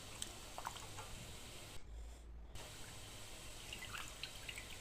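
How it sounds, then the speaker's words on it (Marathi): Raw mutton rinsed under running water in a home kitchen, a faint, steady trickle and splash with a brief lull midway and no talking. "मटण स्वच्छ धुवून घ्यायचं"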